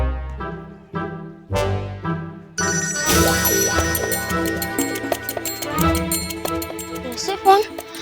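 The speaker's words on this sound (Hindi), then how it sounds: "फोन की आवाज" A phone rings in a domestic scene from a Hindi TV serial. A melodic ringtone plays mid-loud, with background score and other sounds layered over it.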